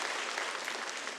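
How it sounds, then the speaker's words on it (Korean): A church congregation gives a brief, soft round of applause during Sunday worship, a steady hiss of many hands clapping together, somewhat distant and fairly quiet. "박수로 우리 함께 축하해 주시면 감사하겠습니다"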